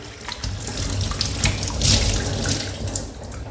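Running tap water pours steadily as a water purifier lid is rinsed under it, a close, continuous splashing with small shifts where the lid moves in the stream.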